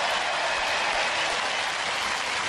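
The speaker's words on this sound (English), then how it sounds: "a big round of applause for both of our teams" A dense, steady wash of audience applause for robot combat teams at a televised robot fighting event fills the whole moment loudly, with no talk over it.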